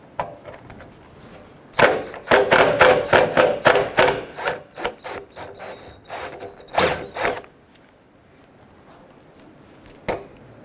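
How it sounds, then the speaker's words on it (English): Torx T30 bit loosening and removing a ball stud from the tailgate of a 1999-2004 Jeep Grand Cherokee, heard as a close run of quick ratcheting clicks, a second short burst, then a lone click near the end. "You're going to loosen and remove the whole ball stud from the tailgate itself."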